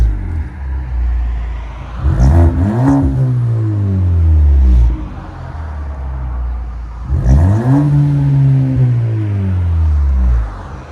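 A 2013 Ford Fusion 1.6L EcoBoost with its muffler removed revs loudly twice with a raw, throaty exhaust roar, each rev climbing then falling back to a rumbling idle, close by.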